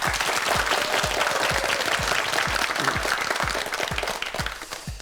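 A studio audience applauds on a Korean TV quiz show, a dense, steady wash of clapping that stays loud throughout and tapers slightly at the end.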